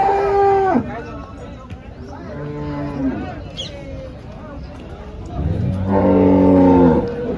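Several HF and Jersey cows moo loudly at a cattle market in Chalisgaon, one at the start and a longer call near the end, over murmuring voices and general crowd noise.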